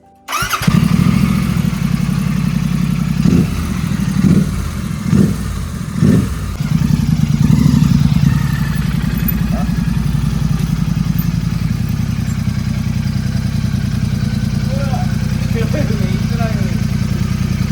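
A motorcycle engine starts with a few sharp revs, then settles into a loud, steady idle that runs throughout, close by, with people talking over it.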